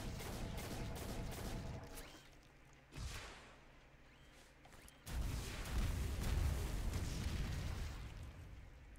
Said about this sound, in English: He does come with the green explosion, but I do have a version of him that's just the regular red explosion.